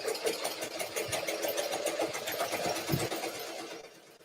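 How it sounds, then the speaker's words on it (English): A sewing machine stitches quilt fabric in a quick, steady mechanical whir with rapid needle ticks, close and fairly loud, running for several seconds before slowing and easing off at the end. "Using my knee lifter, smoothing things out, sewing it down."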